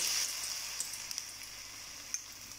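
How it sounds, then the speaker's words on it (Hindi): Potato and chicken pakoras frying in hot oil give a steady, fairly faint sizzle with a few small pops and crackles, heard alone with no talking. "ऑयल हमारा गर्म हो चुका है, अब हम इसमें पकौड़े फ्राई कर लेंगे।"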